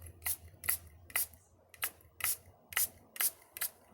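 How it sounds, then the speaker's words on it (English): A spray bottle mists a Sakura watercolor painting with about nine sharp, hissing spritzes at a steady, quick rhythm, close up, with no talking. "I'm just gonna spray"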